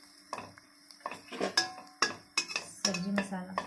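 Masala of red chilli and coriander powder being stirred in a cooking pan for a mushroom gravy, with a series of close, sharp spoon scrapes and clinks against the metal.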